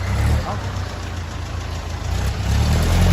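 A heavy truck with a trailer idles close by, a steady low diesel rumble that swells slightly near the end, with voices talking over it.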